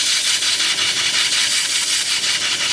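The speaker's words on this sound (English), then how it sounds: "I'm just going to sand like this." Sandpaper is held against a turned wooden piece spinning on a lathe at reduced speed, producing a loud, continuous abrasive hiss with a faint rhythmic pulse from the rotation.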